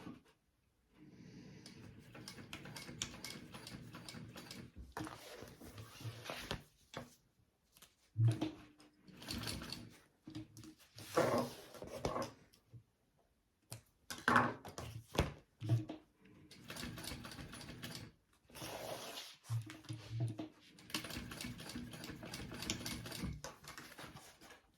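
A sewing machine stitches a tote bag in short bursts of rapid mechanical chatter, separated by pauses and handling clicks, fairly quiet and close.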